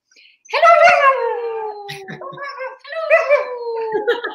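A dog howls in two long drawn-out phrases, the first rising then sliding downward, the second shorter, close and loud indoors with small yips and whimpers between.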